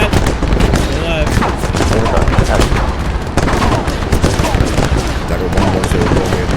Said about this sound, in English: We're getting fired at by something.